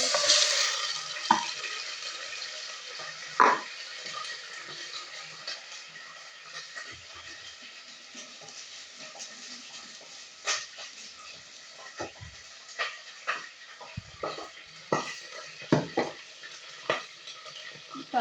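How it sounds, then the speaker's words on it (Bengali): Chopped onion fries in oil for a meat curry, a faint soft sizzle with intermittent sharp scrapes and clinks of a spatula stirring in the pan, with no talking. "তারপর এই পেঁয়াজ কুচি করে রেখেছিলাম পেঁয়াজটা দিয়ে"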